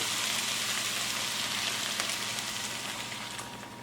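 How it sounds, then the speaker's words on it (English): Chicken broth poured into a pan of onions and celery that have been sauteing, giving a steady close hiss and bubbling sizzle that fades slightly toward the end. "I'm going to add my broth in now"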